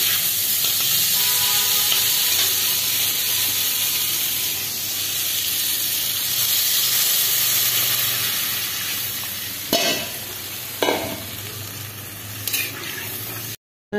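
Potato curry broth of water, fried potatoes and cooked spices heats toward a boil in the pot, giving a loud, steady sizzling hiss, followed by a few sharp utensil knocks near the end.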